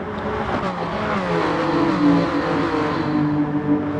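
BMW VGT race cars from a racing video game at Tokyo East Outer, several engines droning and revving together in a continuous close pack, steady and fairly loud with shifting pitch as they jostle.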